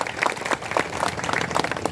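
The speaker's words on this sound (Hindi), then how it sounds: "एक बार जोरदार तालियों इन मातृशक्तियों के लिए कहना चाहता हूं" An audience claps for honoured women at an Indian public gathering, a dense, continuous patter of many hands at moderate distance, steady throughout.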